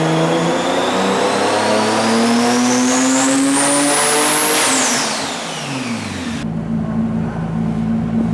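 Nissan Skyline R33 GT-R with a large RB engine on a tuning session, revving loud and close in long sustained pulls, pitch climbing steadily then dropping off before settling into a steady idle-like drone.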